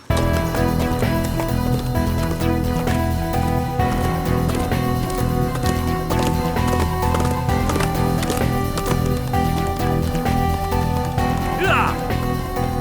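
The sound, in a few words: horse galloping hooves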